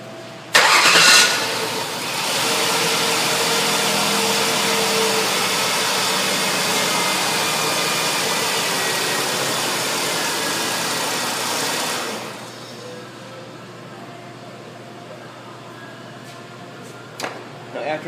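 A Ford Taurus 3.0L V6 fresh from a head gasket replacement cranks and fires with a sharp start, then settles into a steady, loud idle for about ten seconds before shutting off, leaving near silence.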